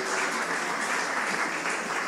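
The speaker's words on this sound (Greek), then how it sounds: "Χειροκροτήστε, γιατί δεν είναι κακό." Steady, dense applause from a conference audience at a business event on AI and security in Greece, an even wash of many hands clapping throughout with no talk.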